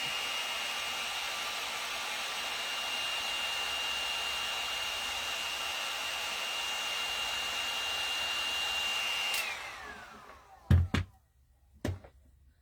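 Hot air tool blowing steadily to soften hot glue, a loud, even rushing hiss that cuts off near the end, followed by a few sharp knocks.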